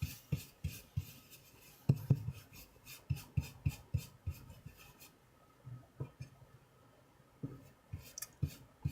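A printing block being rubbed with a rubbing tool, rhythmic rasping strokes repeated at close range, quiet, with a brief lull midway before the strokes resume.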